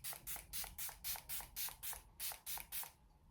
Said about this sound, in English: I'm going to use my Milani Make It Last Original setting spray